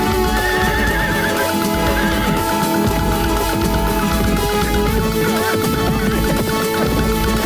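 Wild horse in a cartoon neighs and gallops, with loud whinnies over continuous clip-clop hoofbeats and busy background music, near and sustained throughout.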